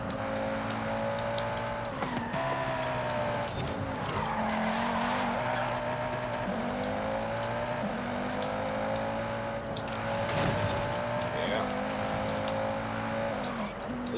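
A race car laps a track in Forza Horizon 5, its engine holding a loud, steady drone that dips and climbs through gear changes, with repeated tire squeals in the corners.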